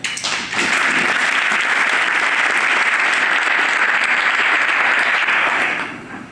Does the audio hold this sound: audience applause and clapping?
yes